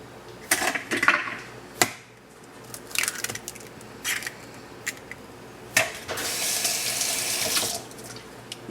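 Kitchen tap running in bursts while fingers are rinsed after handling flour and eggs for cream cheese crepes, with splashing, intermittent water flow and a longer steady stream near the end, close by and without talk.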